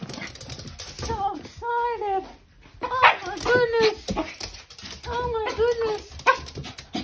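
An excited pet dog whimpers and yips in high, rising cries, several close bursts interleaved with someone talking to it.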